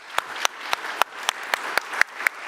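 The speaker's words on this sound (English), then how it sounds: "A round of applause for my 4 panelists today." Audience applause for a panel of four speakers at an international energy conference, sounding as a steady wash of clapping with a few sharp, louder claps standing out at regular intervals.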